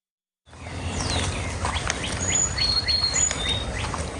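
Several birds chirp and call in a 600-acre green space in the middle of Dallas County, North Texas, with short rising and falling tweets, some close and some farther off, over steady low outdoor background noise.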